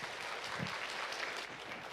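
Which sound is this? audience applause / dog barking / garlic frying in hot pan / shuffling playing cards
audience applause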